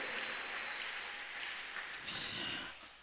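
A church congregation breaks into applause, a dense sustained clapping that fades near the end, with a few cheers rising over it.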